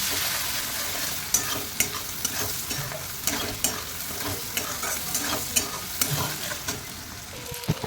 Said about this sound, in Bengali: আর দিলাম লঙ্কার গুঁড়ো আর জিরার গুঁড়ো দিয়ে ভালো করে কষাবে